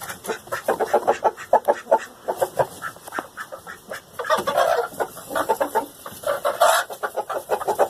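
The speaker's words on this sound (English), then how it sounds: "Then we've got all the other chickens up here, up on the roost." Several chickens on a roost cluck and chatter in quick, uneven bursts, a busy flock sound at moderate distance with no voices.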